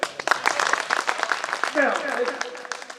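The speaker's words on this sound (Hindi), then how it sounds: "जोरदार ताली बजाओ" An audience at a kavi sammelan poetry recital in Chakia claps loudly and briskly at first, then the clapping thins and fades as a voice carries on over it.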